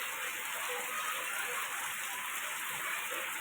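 Rain falling over a residential street in Rajiv Colony, an even wash of steady patter and drips on surfaces, moderately faint and continuous, with no clear speech.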